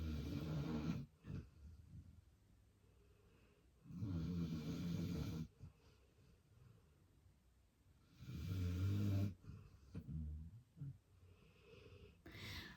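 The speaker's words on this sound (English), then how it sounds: "How's the snoring? Could you get any louder, Spock?" A dog named Spock snoring close by, with three slow, rasping snores rising at steady intervals over quiet breathing in between.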